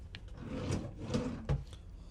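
A closet drawer in a cruise ship cabin slides open or shut, giving soft wooden rubbing and scraping with a brief knock near the end, close by and fairly quiet.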